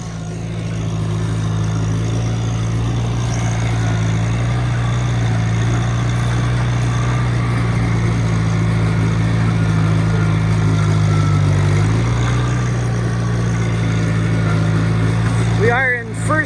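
A farm tractor engine running steadily in first gear during disk and planting work, a loud low drone with a strong even hum. Its pitch dips slightly partway through, and a short rattle cuts in near the end.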